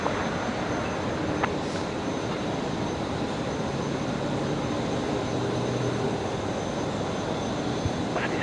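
A Qantas airliner takes off from Brisbane Airport runway 01 left, a broad, steady jet-engine roar with a constant rumble that holds at a fairly even level throughout, heard from a distance.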